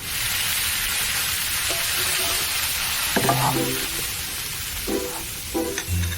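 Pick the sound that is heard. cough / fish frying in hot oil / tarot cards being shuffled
fish frying in hot oil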